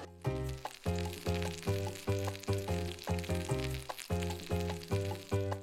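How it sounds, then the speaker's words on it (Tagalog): Garlic, ginger and onion sautéing with vegetables in a hot pan, a steady close sizzle with rhythmic stirring scrapes and clanks repeating throughout. "Una munang igisa ang bawang, luya at sibuyas."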